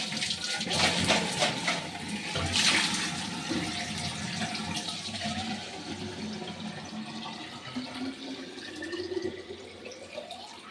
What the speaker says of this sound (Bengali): বাবা একটু জল ভরে আনি এটাতে।